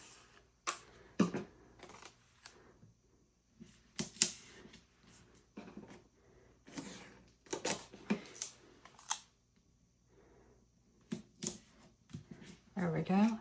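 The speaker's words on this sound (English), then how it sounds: "I'm just going to take some Scotch tape and tape across." Scotch tape is pulled off and pressed across the back of a Halloween picture frame: quiet, scattered crackles, short tearing rasps and light taps close by, with brief pauses between them.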